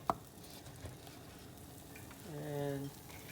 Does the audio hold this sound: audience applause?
no